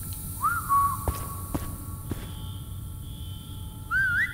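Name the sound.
character whistling in the video game The Chameleon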